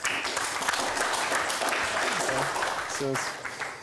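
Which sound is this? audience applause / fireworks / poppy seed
audience applause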